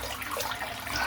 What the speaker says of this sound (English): Let's fill this sink up again with some nice warm water